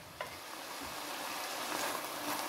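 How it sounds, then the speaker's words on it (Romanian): Onion and carrot frying in a pan with a little salt give off a steady, soft, fairly quiet sizzle throughout. "Puțină sare și le vom căli până își schimbă puțin culoarea."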